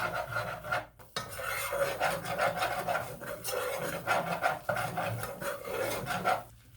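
A spoon scrapes and rubs steadily around a bowl, stirring three tablespoons of flour for homemade soft pretzel rings. The rasping strokes are close and continuous.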